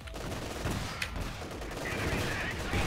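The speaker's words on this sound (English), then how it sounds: "Another shot rings out." Gunfire in the Company of Heroes 2 strategy game as British snipers engage a King Tiger tank, sharp shots over a dense rumbling battle din with continuous background combat noise.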